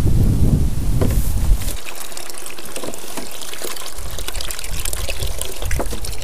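Cold water pours steadily from a 20-liter container at a bushcraft tipi basecamp, a loud close gush that eases into a lighter splashing trickle, with no voices.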